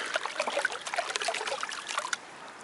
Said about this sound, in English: And maybe first I clear the water here.